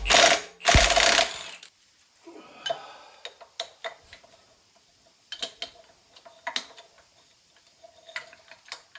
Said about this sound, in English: I wouldn't recommend chrome sockets for this, but it's all I have that fits.